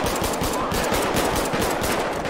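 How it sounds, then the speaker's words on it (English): Rapid automatic gunfire in the police-patrol mod LSPDFR for GTA V, a dense, loud burst of shots fired continuously and alone. "shots fired, shots fired!"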